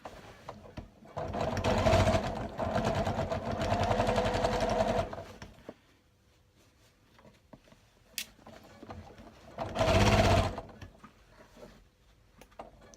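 Sewing machine stitching around a fabric shopper bag, two bursts of steady rapid needle chatter, a long run of about four seconds and a shorter one later, with quiet pauses between.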